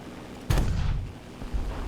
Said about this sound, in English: Let's go for a slightly longer range shot.